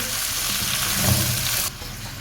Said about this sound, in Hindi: बस इसको 1 से 2 मिनट के लिए हम मज़ीद भूनेंगे।